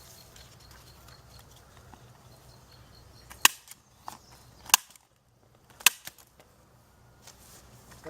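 Three or four sharp cracks ring out at irregular intervals over faint background noise, shotgun fire at a turkey target, moderately distant and with no talking.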